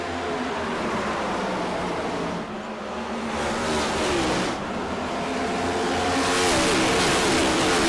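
Stock cars roar through a restart at Bristol Motor Speedway, a loud, continuous wall of engine noise that swells and surges as the field accelerates, with rising revs toward the end and no talk over it.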